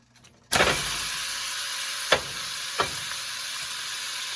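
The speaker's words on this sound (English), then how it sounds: "just get it to a little bit of a sizzle before we add the beef" Beef hitting hot oil in a stew pot, bursting into a loud steady sizzle that holds throughout, with a couple of brief sharper pops or stirs partway through.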